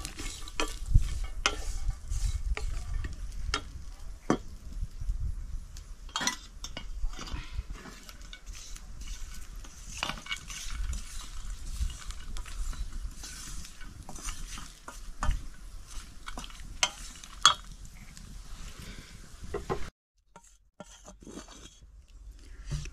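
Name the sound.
masala being roasted and stirred in a kadhai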